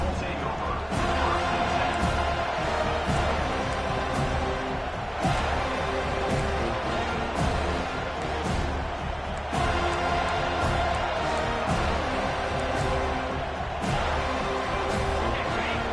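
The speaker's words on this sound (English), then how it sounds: "This crowd bringing an ear-splitting welcome to their visitors." A packed stadium crowd roars at a college football game against Auburn, a continuous loud wash of cheering with surging peaks, while a play-by-play commentator talks over it.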